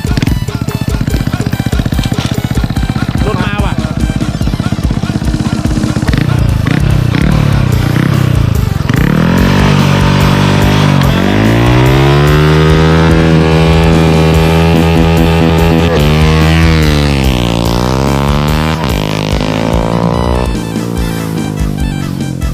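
A Honda Dream motorcycle with a steel frame and tuned engine parts revs loudly and continuously, the engine note climbing and falling in repeated sweeps as the gear is released and the bike launches, with no talking.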